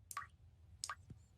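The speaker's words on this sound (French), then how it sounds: "il y a le robinet qui fuit" Leaky faucet dripping in a cartoon kitchen: two distinct water drips land with a bright plop, followed by a softer low drop, close and quiet against near silence.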